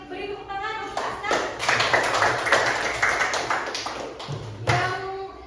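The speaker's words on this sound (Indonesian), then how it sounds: "Beri tepuk tangan untuk Aska." A classroom of students claps for a classmate, a brisk run of hand claps lasting several seconds, with a teacher's voice heard before and after.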